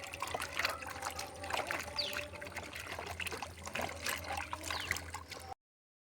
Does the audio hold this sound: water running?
yes